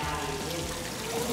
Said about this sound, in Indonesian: Itu kita kasih air terjun.